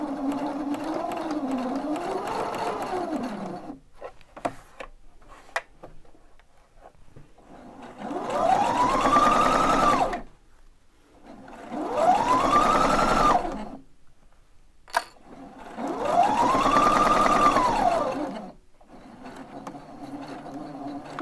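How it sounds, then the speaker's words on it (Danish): A Pfaff Opal 670 sewing machine stitches a lavender sachet in three loud, close whirring runs, each rising and falling in speed. Short quiet pauses and small clicks separate the runs. "Og maskinen er sat til at fikse, det vil sige, at den laver et punkthæft, når jeg starter."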